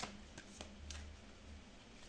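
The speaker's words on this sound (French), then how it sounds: "je les mélange devant vous pour vous montrer qu'il s'agit bien d'un tirage" A deck of oracle cards being shuffled by hand, a quiet close run of soft riffling flicks and taps with no talking.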